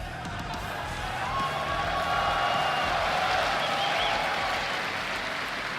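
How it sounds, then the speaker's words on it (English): Arena crowd before a CSGO grand final at ESL One Katowice, a dense, steady roar of cheering and applause from a large audience, loud and continuous throughout. "This crowd is ready."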